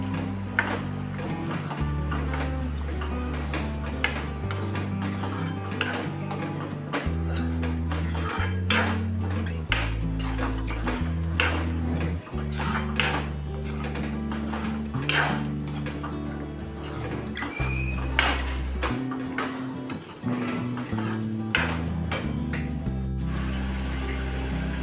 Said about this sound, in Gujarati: કાજુ ફ્રાય કર્યા છે તેલમાં તે એડ કરી દઈશું ગ્રેવીમાં. બરાબર મિક્સ કરી દઈશું.